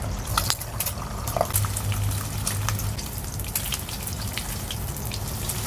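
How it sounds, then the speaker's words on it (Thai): Egg frying in a pan, scrambled Thai-style before stir-fried spinach, produces a loud, close, bubbling sizzle with dense crackles and spits, continuous throughout with no voices. "เราจะทำการทอดไข่ก่อน โดยเราจะทอดไข่ทำแบบไข่ข"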